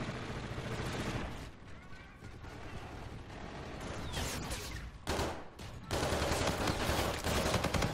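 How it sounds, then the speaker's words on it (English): Dense, continuous gunfire and rapid weapon bursts fill a Call of Duty: Infinite Warfare multiplayer match on the Permafrost map, loud and sustained with a sharper surge near the end. "There's a guy behind me shooting at me."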